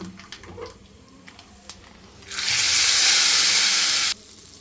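After a few quiet clicks, a loud burst of sizzling erupts as hot tempering hits cooked lentils with tender tamarind leaves, hissing strongly for about two seconds before cutting off.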